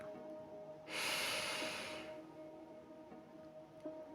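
One deep inhaled breath during a guided breathing exercise, a close, airy rush lasting about a second, set against a quiet background of soft ambient tones.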